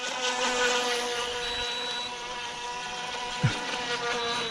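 The small motor of a Haiboxing Surge X03 RC boat whines steadily at high pitch as it runs on water at moderate distance, with a brief knock near the end.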